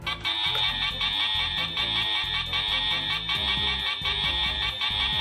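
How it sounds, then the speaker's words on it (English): An electronic emergency alarm on a toy Fireman Sam fire station sounds continuously and loudly, a shrill steady tone over a clattering, pulsing toy rhythm throughout. "And the emergency alarm is sounding."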